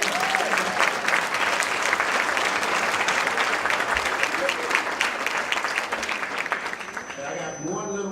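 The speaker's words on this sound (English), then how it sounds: "You are deserved a round of applause." Audience applause at an HBCU pre-law event with a special guest speaker, dense sustained clapping from a crowd that fades toward the end as a voice starts talking.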